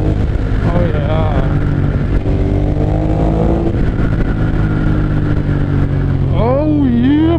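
A 2014 Ducati Monster 1200S engine revs loudly up close, its throttle blips rising and falling in pitch over a steady rumble, with people talking over it.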